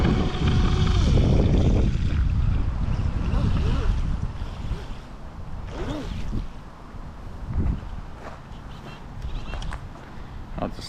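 A DEERC brushless remote control boat runs on a pond, its motor whine and rushing water wash loud and close at first, then fading farther away with intermittent swells of splashing.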